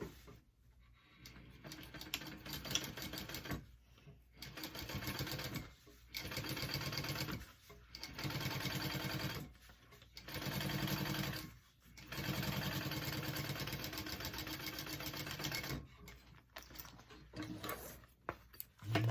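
A sewing machine topstitches a handbag in several bursts of fast, steady stitching, each separated by brief pauses, close and fairly loud with no talking.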